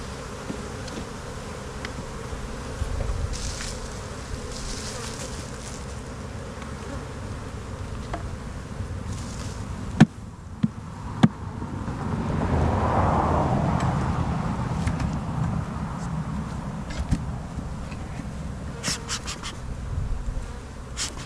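Honey bees swarm around hives in an almond orchard, a dense, steady buzzing close by with individual bees droning past, a few sharp knocks and a louder rising hum partway through.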